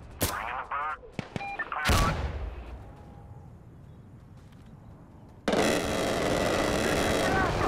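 Gunfire and explosions from incoming fire support in the Insurgency: Sandstorm video game with the ISMC mod: sharp blasts in the first two seconds, a quieter stretch, then a loud sustained roar of fire from about five and a half seconds on.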